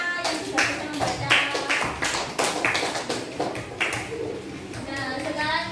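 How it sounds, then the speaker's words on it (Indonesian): A classroom of fourth-grade pupils claps for a classmate who has just read aloud, a brisk burst of many hands with children's voices chattering under the applause. "Ya, itu tepuk tangan buat temennya yang sudah bisa membaca."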